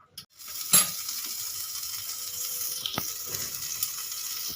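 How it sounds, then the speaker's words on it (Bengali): Butter melting in a pan gives a soft, steady sizzle close by, with a few sharp metallic ticks and clinks scattered through. "বাটারটা আমি গলিয়ে নেব"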